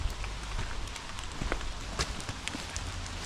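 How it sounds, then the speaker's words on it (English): Rain falling on a rocky, slippery mountain trail on the Appalachian Trail, a steady broadband patter with scattered sharper drop hits, close and moderately loud, with no voices. "it's starting to slow down with the rain"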